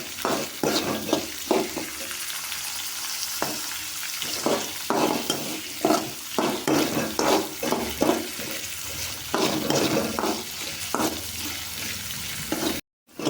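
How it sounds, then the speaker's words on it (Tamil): Beans and carrots frying in oil in a pan, a continuous sizzle broken by repeated rhythmic spatula scrapes and stirring knocks, close and fairly loud. "இது என்னென்னா கொஞ்சம் நேரம் எண்ணெயிலே வதக்கணும்"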